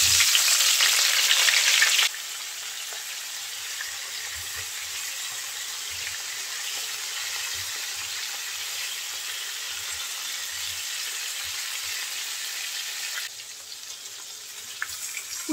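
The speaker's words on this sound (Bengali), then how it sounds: "এখন তেলের মধ্যে পটলগুলো দিয়ে দেব।" Spice-coated pointed gourd (potol) slices hit hot oil in a pan with a sharp burst of loud sizzling, which settles into a steady, softer frying hiss that continues without voices.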